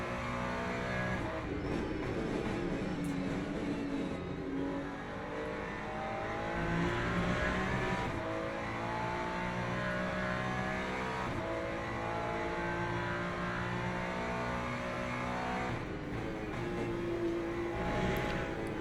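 A GT3 race car engine in the video game Le Mans Ultimate, chasing a McLaren, drones steadily throughout, rising and falling in pitch with shifts and revs, loud and close with a continuous roar.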